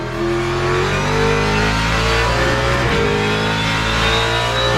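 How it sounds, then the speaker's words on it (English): A sim-racing car engine roars under acceleration with a steady, loud intake drone and rising revs, heard alone without talk. "The intake sound when I put my foot down, you can hear it sucking the air into the car."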